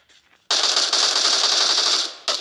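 Loud, dense burst of rapid automatic gunfire in a video game, a sustained rattling volley lasting under two seconds after a brief quiet lead-in, with a second burst starting at the end.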